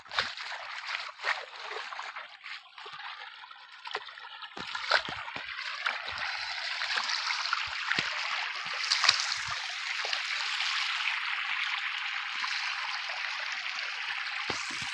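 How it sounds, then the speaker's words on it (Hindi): Water pours and splashes steadily into a tank on a farm, a continuous close rushing flow with occasional knocks. There is no talk. "अब टक्करी में पानी मिल देते हैं"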